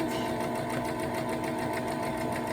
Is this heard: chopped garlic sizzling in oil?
no